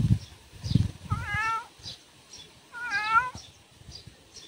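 A cat yowls twice, long wavering cries a couple of seconds apart, with soft thumps and rustling nearby.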